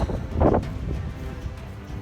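A strong wind roars during a sudden mountain storm on Mount Sindoro, with a heavy gust near the start and then a steady rumbling buffet against the microphone.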